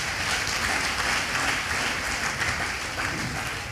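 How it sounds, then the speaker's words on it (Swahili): A congregation at a prayer rally service applauds, producing steady, dense clapping that fills the room continuously at a fairly loud, even level, with no pause. "Tuwapigie makofi mazuri."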